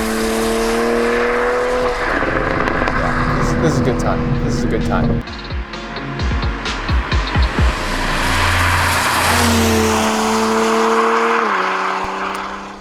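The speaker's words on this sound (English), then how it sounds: "you get those burbles on the exhaust." A Toyota Supra in sport mode revs and settles, its engine droning loudly with a cluster of crackling exhaust burbles in the middle, while people talk over it inside the car.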